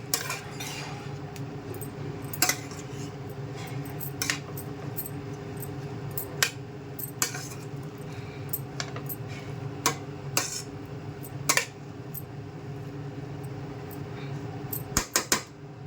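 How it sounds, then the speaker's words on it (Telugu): A utensil stirs a tofu and spinach mixture in a cooking pan, making scattered metallic clinks and scrapes against the pan over a low, steady background. "ఇది ఒకసారి కలిపేసుకోవాలి. ఇలా కలిపేసుకుందాము."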